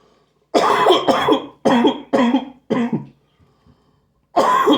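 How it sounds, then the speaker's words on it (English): Five harsh coughs in quick succession, loud and close, followed by a short pause, two faint breaths, then another cough burst. "Got quite the cough today."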